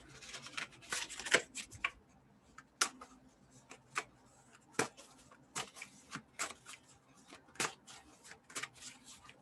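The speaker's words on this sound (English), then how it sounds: "Hard to shuffle these cards because they're index cards" Stiff index cards are shuffled and riffled in quick bursts of crisp flicking and snapping, with short pauses between handfuls and no voices.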